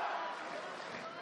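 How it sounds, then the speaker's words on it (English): Dense arena crowd roar at a heavyweight boxing bout, Joseph Parker against Razvan Cojanu, a steady loud cheering wash of many voices rising behind the local fighter, with no clear individual words. "Crowd getting behind their hero."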